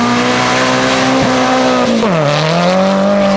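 Nissan 180SX drift car at a drift competition, its engine holding a loud steady high-revving note, then dipping in pitch through a transition while the tires squeal continuously, close and alone with no talk.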